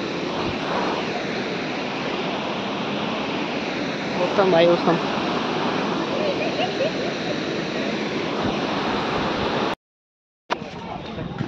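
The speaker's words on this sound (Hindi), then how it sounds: "गजब जा रहा है पानी" Loud, continuous rushing water at Lake Pichola in Udaipur fills the clip, with a voice briefly over it, before a short cutout near the end.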